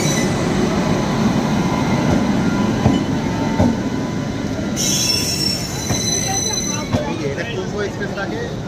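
A passenger train rolls along the rails with a constant rumbling clatter, and a shrill wheel squeal cuts in partway through; voices murmur faintly beneath.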